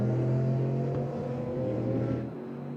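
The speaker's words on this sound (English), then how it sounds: "turbo-powered Nissan engine under the bonnet, very light machine" A turbo Nissan Stanza sports sedan races at a circuit, its engine a steady distant drone that holds a constant pitch throughout.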